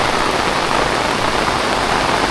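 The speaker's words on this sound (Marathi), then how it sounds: "नुसता पाऊस पडतोय." Heavy, steady rain pours down in the countryside of the Konkan during the evening monsoon, a dense, continuous hiss with no pauses and no voices.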